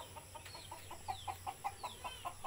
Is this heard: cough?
no